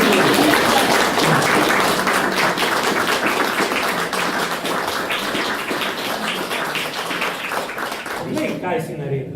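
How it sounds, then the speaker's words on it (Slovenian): Applause from an audience at a talk event in the library in Tržič, Slovenia: dense, steady clapping filling the whole stretch, tapering slightly near the end, with voices mixed in. "Od vesela so zaploskali"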